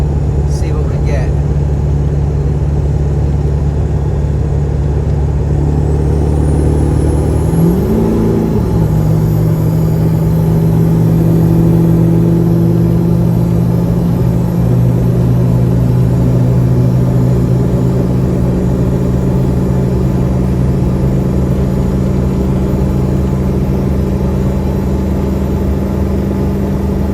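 A 7.3 Powerstroke diesel truck engine rumbles steadily throughout, with a rising rev near the start as the driver gets on the throttle, then a sustained drone during a nighttime drive.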